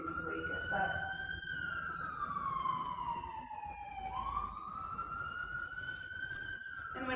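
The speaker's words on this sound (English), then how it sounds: "as the sirens begin to wake us up." An emergency vehicle siren wails outside, a single slow rising and falling tone heard faintly at a distance throughout, with a soft voice speaking beneath it.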